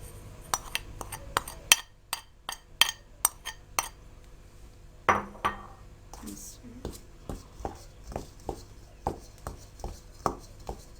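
Gram flour and plain flour are stirred together in a bowl, producing a series of sharp taps and scrapes as a spoon or utensil knocks against the bowl in an uneven rhythm, with a brief murmur partway through.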